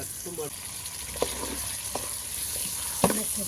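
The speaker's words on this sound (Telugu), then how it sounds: "ఇలా ఆనియన్స్ అంతా కొద్దిగా ఫ్రై అయిన తర్వాత ఇందులోకి చికెన్ అయితే యాడ్ చేసుకోవాలి" Chicken pieces dropped onto fried onions in a pan for chicken fry, giving a steady low sizzle with several sharp stirring scrapes and clatters against the cookware.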